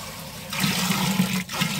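Water poured from a bucket into a cooking pot for boiling home-grown Dudheswar paddy, a steady splashing gush starting after a brief quiet moment and running close and moderately loud with a short break near the end.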